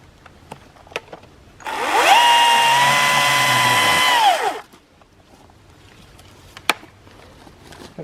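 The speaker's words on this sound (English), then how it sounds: "I'll just use the chainsaw to do that" Small gas chainsaw briefly revs up and cuts through a thin wooden stake made from a small weed tree, a loud steady whining buzz of about three seconds that drops off as the cut finishes, outdoors with light ambient noise around it.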